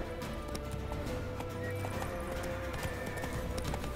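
The horse Roach galloping in The Witcher 3, with rapid, continuous hoofbeats and rumble across the whole stretch, close and loud, with no talking.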